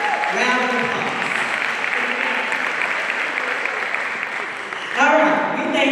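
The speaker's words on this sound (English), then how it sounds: "They all deserve a tremendous round of applause." Audience applause at an MLK commemorative breakfast, a steady spread of clapping running throughout, with a voice talking over it at the start and again near the end.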